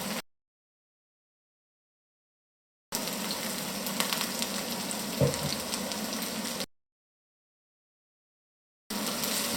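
Aubergines sizzling in hot oil in a pan for ratatouille, a steady close frying hiss with a brief knock, heard in two separate stretches broken by silence.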